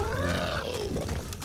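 A Boomer zombie in Left 4 Dead 2 lets out a short, guttural, gurgling growl close by, followed by faint clatter from the game.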